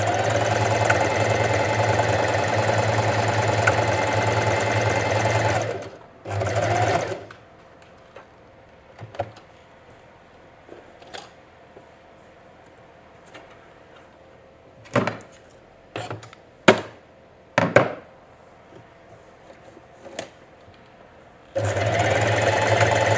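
A sewing machine stitches a buttonhole on a skirt in one loud, steady mechanical run that stops after about six seconds, followed by quiet with scattered clicks and handling knocks, then the motor starting again near the end.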